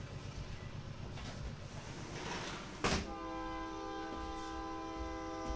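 A train rumbles steadily nearby in Newark, then a long, loud horn blast begins partway through and holds to the end.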